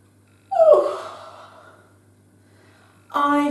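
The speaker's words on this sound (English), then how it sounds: "When I yawn," A person gives a long, drawn-out yawn that starts loud and fades into a breathy sigh, followed after a pause by the start of another voiced sound.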